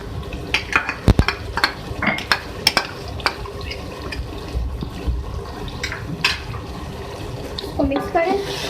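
Yogurt going into a pot of potato biryani, with wet stirring and scraping, a few sharp clinks of a utensil against the pot and a soft sizzle underneath, heard up close alongside faint background voices.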